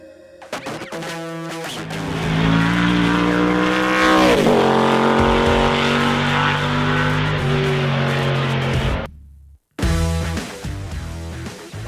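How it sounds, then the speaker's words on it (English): A race car roars loud and close, engine pitch climbing through gears with a sweeping rise and fall around the middle, then cutting briefly to near silence before the engine noise resumes. "Those car sounds were courtesy of friend of the show, Jimmy Ford from JimmyFordRacing.com"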